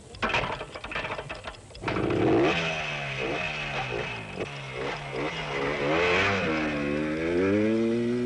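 Motorcycles set off at the start of a race through the Spanish countryside. Engines rev and rise in pitch as the bikes pull away, with several machines buzzing at once against a rough background at moderate distance.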